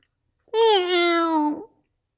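A single drawn-out meow of about a second, clear and close against silence, most likely a voice imitating a cat named Wilbur rather than a real animal.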